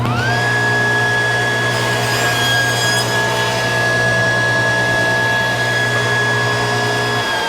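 A table saw fitted with a miter gauge cuts wood: a loud, steady motor whine with a bright, constant tone runs without a break for several seconds, close and alone, with no talking.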